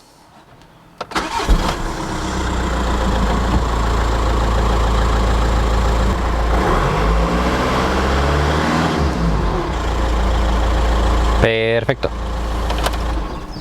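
A car engine cranks and catches after an oil change, then settles into a steady close idle that runs on evenly; a brief word is spoken near the end.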